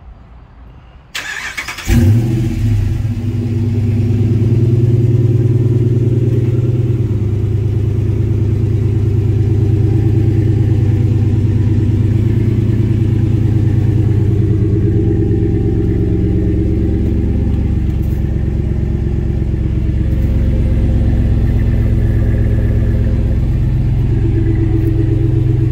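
A 2014 Ram 2500 Laramie with the 6.4 engine cranks and fires after a brief quiet start. It settles into a loud, steady, deep idle rumble that runs close by for over twenty seconds.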